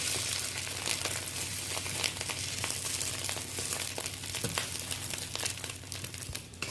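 An egg omelette fries lightly in a pan for an omelette curry, a soft, steady crackling sizzle with scattered small pops, close and fairly quiet, without talk.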